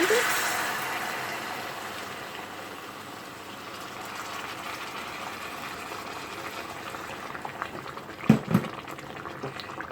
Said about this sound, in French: Là, je vais ajouter de l'eau bouillante.